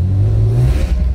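A BMW M3 engine revs hard as the car accelerates uphill on a wet mountain road, a loud, close, rising drone that holds steady, then eases slightly near the end.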